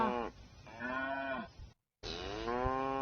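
A water buffalo, a carabao, moos in long, drawn-out calls, close and loud, broken by a brief pause of silence before it calls again.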